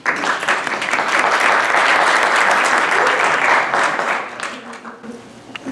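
Sustained applause from an audience at a Brazilian student conference on Amazon studies fills the room steadily for several seconds, then thins out and fades near the end.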